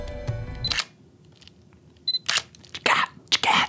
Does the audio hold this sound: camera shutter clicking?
yes